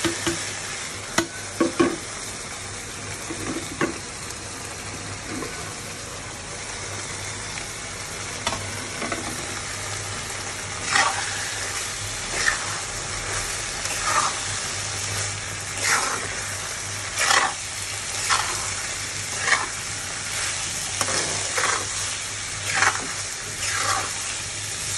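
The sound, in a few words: spices and ingredients added to meat, stirred and frying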